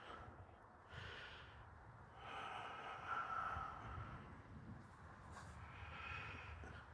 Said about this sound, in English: we're going to start breathing in and out